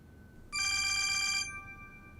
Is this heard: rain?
no